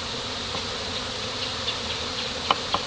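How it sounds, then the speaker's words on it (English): Honeybees hum in a steady, dense swarm around a hive after rain, a continuous buzz close by, with a couple of individual insects zipping past near the end. "all of the bees flying around."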